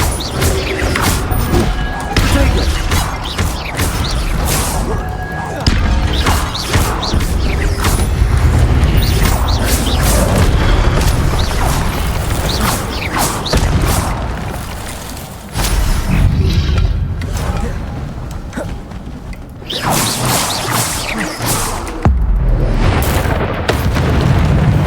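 Fire-spell explosions in Hogwarts Legacy go off as a run of loud, heavy booms and crashing blasts, with dense bursts throughout and a couple of brief lulls.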